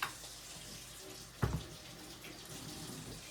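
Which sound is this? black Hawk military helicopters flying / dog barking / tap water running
tap water running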